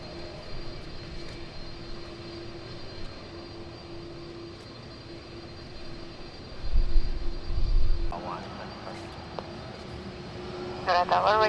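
Airliner taxiing at Ngurah Rai International Airport in Bali, a distant steady engine drone with a thin whine, swelling briefly, plus faint chirps near the end.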